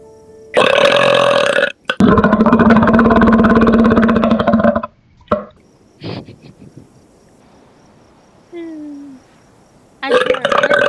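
Two long, loud burps follow one another up close, then a few short gulping sounds and a faint squeak, with another loud burp starting at the very end, amid playful indoor horror-gaming banter.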